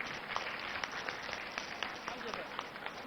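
An audience clapping for a student at an educational event: dense, steady applause from a crowd for about three seconds.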